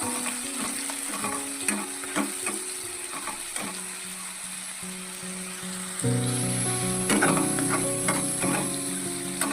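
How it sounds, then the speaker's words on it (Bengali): Onion paste fries in hot oil in a pan for a fish curry, a continuous close sizzle with light scraping stirs, growing fuller and louder partway through. "হালকা নাড়াচাড়া করে নিচ্ছি এরপরে দিয়ে দেব পেঁয়াজ বাটা"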